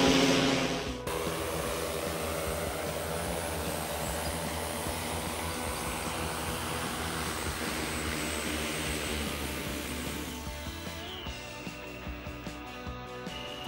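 A PRISM Sky autonomous delivery drone carrying a delivery winch hums steadily as it flies to the landing point and sets down, a continuous propeller drone lasting several seconds before it cuts off abruptly near the end.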